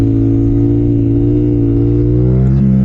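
A motorcycle engine held at high revs through a wheelie, throttle never released, drones loud and steady close up, its pitch rising slightly before a brief dip and recovery near the end.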